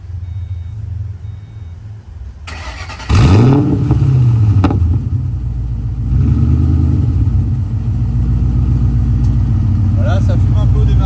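A stage 2 tuned Ford Mustang engine cranks and fires with a sharp burst, then settles into a loud, steady, deep rumbling idle close by. No one speaks over it.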